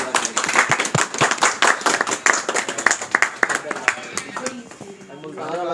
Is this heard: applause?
yes